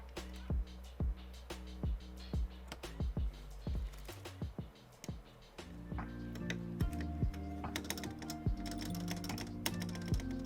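Typing on a KBD67V2 MKII custom mechanical keyboard, close crisp keystrokes in bursts, sparse at first and then faster, with a faint ringing back plate ping behind them.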